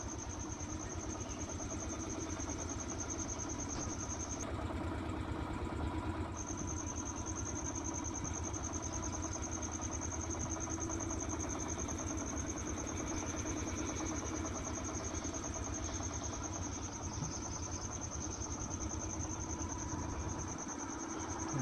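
A motor fishing boat's engine drives it fast while hilsa nets are set on the Haldi River, a continuous droning hum with a high steady whine running unbroken, with no speech.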